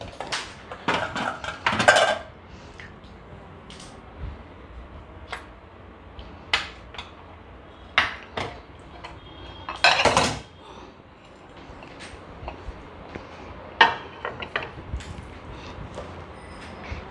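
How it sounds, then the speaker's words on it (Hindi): Ice cream being spooned into a homemade milkshake, heard as scattered metallic clinks and scrapes of a spoon against a glass or bowl, with a few louder knocks. "अब इसमें डालेंगे हम लोग आइसक्रीम।"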